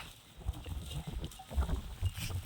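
Banni buffalo on a farm, with low grunts and shuffling animal sounds close by, several short bursts over steady background noise with no talking.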